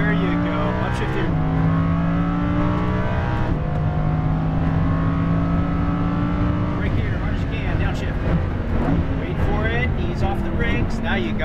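A Lamborghini Huracan LP610-4 accelerates hard with rising engine pitch, then upshifts, and the revs drop and climb again, loud and close, under an instructor's voice.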